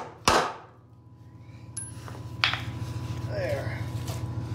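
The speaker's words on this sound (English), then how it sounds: "I'll use a little center punch. Punch the center, or at least close to it." A hammer striking a small center punch set on a rivet in a steel truck frame, one sharp metallic clang that rings briefly, then a second lighter tap, heard close up in a workshop.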